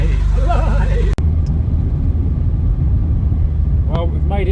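A Ferrari 308 engine runs on a test drive after an ignition restoration for an intermittent fault, giving a steady loud low rumble close up, with a voice talking over it.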